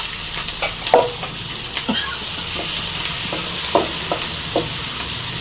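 Bajji green chillies hitting hot oil tempered with popped mustard seeds for a chilli gravy: a loud, close sizzle with repeated clacks and scrapes from a spoon stirring the pan, no talking.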